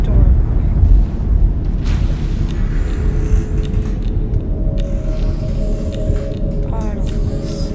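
Storm in the video game Among The Sleep: a steady, heavy low rumble of wind and thunder that fills the whole stretch, with a few faint higher tones drifting over it.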